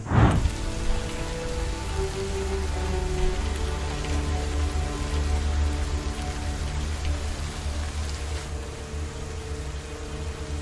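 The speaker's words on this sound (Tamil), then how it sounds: "மழை பேஞ்சிக்கிட்டே இருக்கு." Heavy rain pours steadily as a dense, even roar of drops on surfaces, loud and continuous throughout with a low rumble underneath and no voices.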